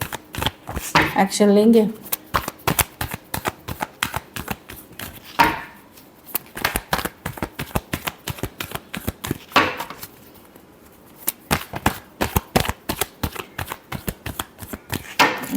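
Tarot cards are riffled and shuffled by hand in quick bursts of dense, crisp flicks, close and fairly loud, running through most of the stretch while someone speaks over and between the bursts.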